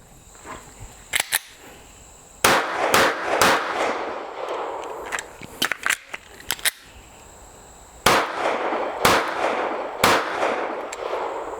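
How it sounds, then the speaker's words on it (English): Sig Sauer P365XL pistol shots crack at silhouette targets in a range: sharp, loud reports in short clusters of two and three with pauses between, echoing slightly. "let's do those 3 headshots on each of the silhouette targets"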